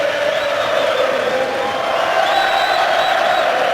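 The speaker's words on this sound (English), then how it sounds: "Belfast's faithful, Conlan's fans trying to raise the man" A Belfast boxing crowd at a 2017 pro fight roars for Conlan in a steady, loud, continuous wall of cheering and chanting that fills the arena without a break.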